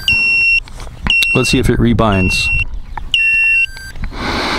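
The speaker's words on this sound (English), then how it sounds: "we have alert beeper" Alert beeper on a Walkera Furious 215 FPV race drone with its controller switched off, sounding repeated sharp, steady electronic beeps in bursts up close, with someone talking over part of it.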